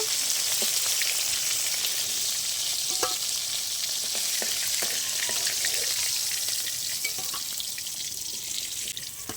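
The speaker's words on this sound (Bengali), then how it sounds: "তেল তেল করার জন্য মাছ বেশি কড়া করে ভাজবো না, এরকম হালকা করে ভাজবো" Koi fish (climbing perch) frying lightly in hot oil, a loud, dense, continuous sizzle with scattered pops and crackles throughout.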